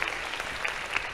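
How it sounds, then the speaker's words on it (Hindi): Audience applause during a Bhopal event where the Madhya Pradesh chief minister meets teachers, a dense steady clapping from a crowd lasting about a second. "जोरदार ताली बजा करके अपने एक बार फिर"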